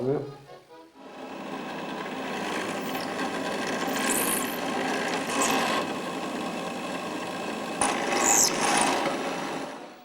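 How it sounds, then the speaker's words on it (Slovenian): Handheld jigsaw cutting the corners of a wooden basket base, a steady close buzzing rasp running for several seconds after a brief start. "Tu bom zdaj vogale te obrezal s to bodno žago."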